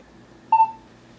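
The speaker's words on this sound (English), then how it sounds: "I'm gonna start a timer." A single short electronic beep from a timer being started, clear and close, standing alone against a quiet room hum.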